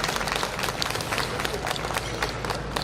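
Applause at a Chungbuk remembrance culture festival for the musicians of the Chungbuk Minyechong music committee, a dense, steady wash of crowd clapping that holds at even loudness through the whole short stretch.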